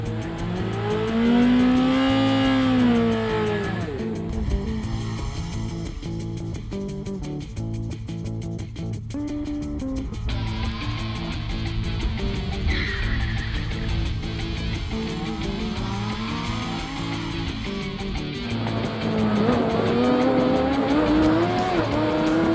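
A Formula SAE race car laps a course, its engine revving and shifting loudly up close, then tires squeal and skid as it spins out in a corner before the engine note picks up again.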